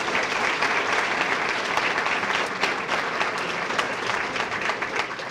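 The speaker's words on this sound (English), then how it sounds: "Let's have a nice round of applause for them." Steady applause from an audience honoring junior fire academy graduates at a city ceremony, dense and continuous hand clapping at an even level throughout without a break.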